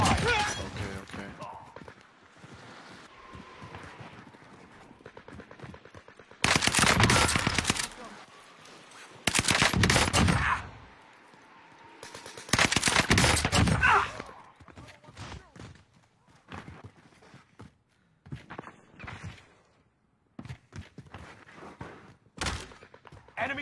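Video game gunfire in a tournament match: loud bursts of rapid automatic shots in several sustained volleys, with quieter scattered shots and game sounds between them and talk over the action.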